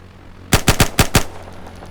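Automatic gunfire in the video game Antistasi: five sharp, loud shots fired in quick succession, then a short fading tail, with no voices.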